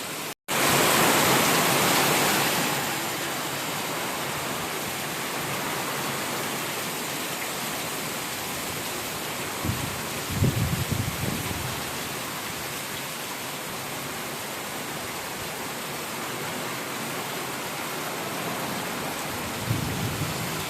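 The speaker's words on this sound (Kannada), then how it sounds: "ಸಿಕ್ಕಾಪಟ್ಟೆ ದೊಡ್ಡ ಮಳೆ ಬಂದೋಯ್ತು ಇಲ್ಲಿ ನೋಡ್ರಿ ಆಲ್ರೆಡಿ ತುಂಬ್ಕೊಂಡು ಹರಿತಾ ಉಂಟು" Heavy rain roars with rushing water beneath it, a thick continuous wash broken by a few low rumbles.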